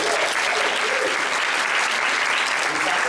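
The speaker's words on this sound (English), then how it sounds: "Please give Ellen a round of applause." Steady, loud applause from a conference audience, a continuous dense roar of many hands clapping throughout the few seconds, with no pauses.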